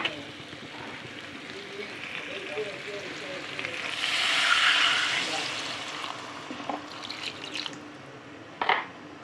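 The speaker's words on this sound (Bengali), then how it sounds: "এদিকে আলুটা কষানো হয়ে গেছে, তেল ছেড়ে দিয়েছে মশলা থেকে। জল দিয়ে দেবো।" Water splashes and pours into a pan of potato curry for a jackfruit dish, landing on spiced potatoes that have been fried until the oil separates; a steady rushing swell peaks midway, then fades to a few light clatters.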